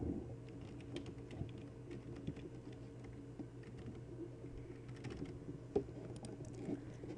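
A computer keyboard is typed on with soft, irregular clicking keystrokes, faint and continuous throughout, with no voices.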